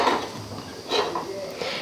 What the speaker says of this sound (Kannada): ಈಗ ನಾವೊಂದು ಪಾತ್ರೆ ಇಟ್ಕೊತೀನಿ ನೋಡ್ರಿ.